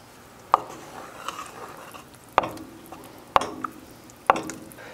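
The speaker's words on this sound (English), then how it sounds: "Let's give that a mix." Ketchup being stirred for a homemade BBQ sauce, with four sharp utensil taps against the container spaced irregularly over soft, wet stirring noise, close and fairly quiet, with no voices.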